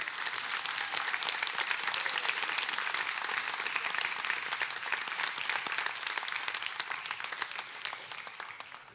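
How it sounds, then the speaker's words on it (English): A banquet crowd at a student awards ceremony applauds two women on stage, with dense, continuous clapping from a sizeable room that holds steady and tapers slightly at the end. "let's give those 2 ladies a round of applause for stepping up"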